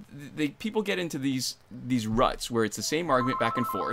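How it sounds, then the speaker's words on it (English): A telephone rings with a steady electronic ring tone toward the end, partly masked by a person talking continuously over it. "I guess that's a phone call."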